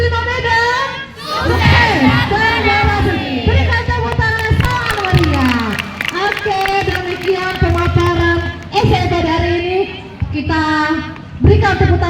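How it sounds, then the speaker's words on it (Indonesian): Students at SMA Negeri 5 Medan cheering and shouting loudly in a hall, a packed, energetic crowd of young voices yelling and whooping close by, with clapping mixed under the noise. "Berikan tepuk tangan yang sangat meriah."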